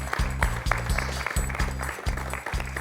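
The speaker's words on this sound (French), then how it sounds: "Et tous nos applaudissements pour notre champion" A French quiz-show studio audience applauds the champion, with steady, dense clapping running throughout at close range and no talk over it.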